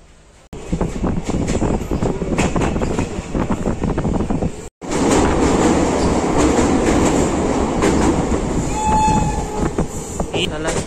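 Loud, close rumble and rattle of a train running near Pathankot station, continuous clatter with a brief break midway and a faint horn-like tone near the end.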